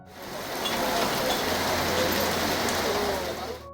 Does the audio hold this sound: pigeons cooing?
no